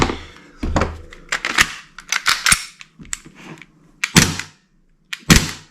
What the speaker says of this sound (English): And a couple of dry fire shots.